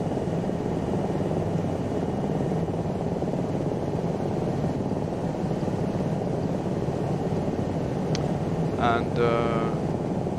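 Lama SA315 helicopter flying in strong winds, a constant dense rotor and turbine roar heard from inside the cabin, with a pilot's voice speaking briefly near the end.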